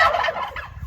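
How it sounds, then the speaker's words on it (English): A single quick turkey gobble, a loud rapid warbling burst close by, lasting under a second. "2 turkeys where they're not supposed to be."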